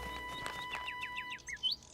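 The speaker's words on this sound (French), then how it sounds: "Là, les oiseaux sont revenus." Small birds chirp around a vegetable garden with a scarecrow in a Caillou cartoon, a quick run of faint, high tweets that sharpen into a brighter burst near the end over a quiet steady hum.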